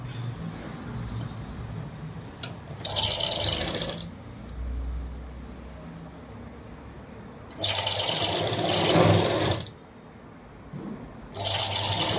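A sewing machine stitches a blouse in three loud, close bursts of rapid mechanical whirring, separated by quieter pauses with faint handling sounds.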